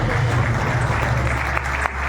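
An audience at an African innovation award ceremony applauds: steady, dense clapping from a large crowd, loud and continuous throughout, with no talk over it.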